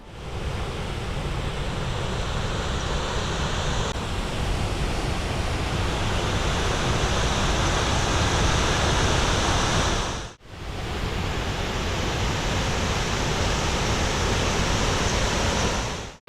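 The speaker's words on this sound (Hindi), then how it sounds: "जामजीर झरना या वाटरफॉल सिंगोड़ा नदी पर आया एक शानदार प्राकृतिक झरना है।" Jamzir waterfall on the Singoda river in the Gir forest roars with a loud, steady broadband rush of falling water, unbroken apart from a brief cut near the end.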